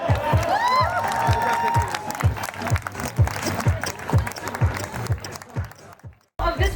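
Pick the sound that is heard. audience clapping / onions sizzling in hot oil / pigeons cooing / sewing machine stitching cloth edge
audience clapping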